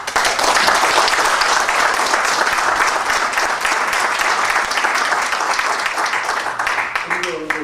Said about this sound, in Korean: 총장님 다시 한번 박수 한번 드립시다.